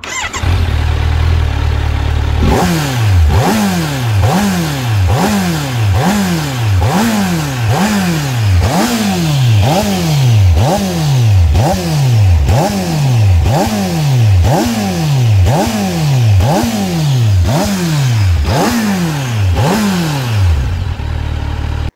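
A 2023 Kawasaki Z900 SE sport motorcycle rides a mountain road in Austria, its engine rising through the revs and dropping again with each gear change in a long repeating series of loud, close pulls.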